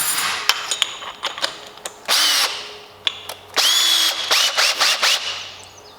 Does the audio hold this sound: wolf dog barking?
no